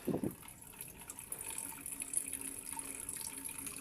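Water runs steadily from a spout of a rain gutter outdoors, a continuous splashing hiss with a brief louder gush at the start, close by and without voices.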